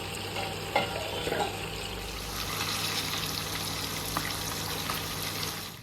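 Fish frying in a pan with friends after a fishing trip, a steady dense sizzle of hot oil with a few louder crackles and pops, and no talking.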